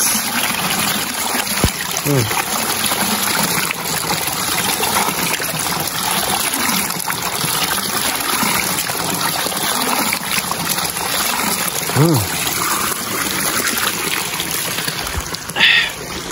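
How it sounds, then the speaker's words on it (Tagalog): A close, steady stream of cold spring water runs and trickles at a rural Philippine water source, with brief talk over the flow. "almost na mga tao ay ganito ang pinagkukunan namin tubig, flowing."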